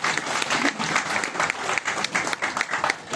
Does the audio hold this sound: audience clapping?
yes